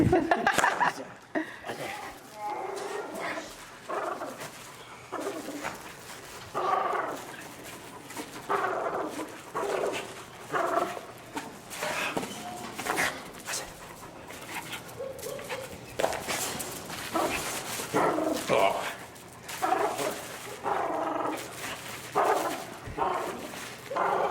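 A dog gives short barks and yips during a reactivity training session, intermittent and mid-distance, with people talking and chuckling around it.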